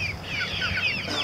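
Cornish Cross meat chickens cluck and chatter continuously at close range, several overlapping birdy calls filling the short moment without any talking.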